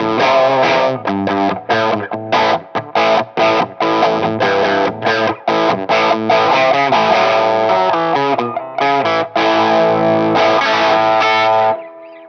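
Tokai FB65 electric guitar played through its bridge pickup with heavy distortion, loud chugging rock chords and riffs with short choppy stops, ringing out steadily with no talking.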